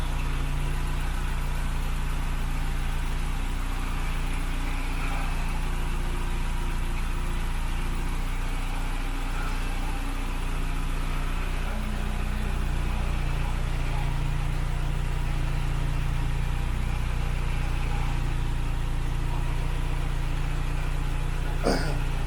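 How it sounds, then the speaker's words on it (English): A Mk3 Ford Cortina engine idles steadily with a deep, even low hum, while the exhaust extractor rattles with a loose metallic buzz throughout. "The noise, by the way, is the extractor rattling on the exhaust."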